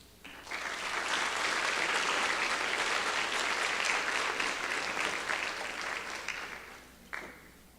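Full, sustained applause from the audience at a National Honor Society induction ceremony, a dense roar of clapping that swells quickly, holds steady for several seconds, then thins out, followed by one brief final burst.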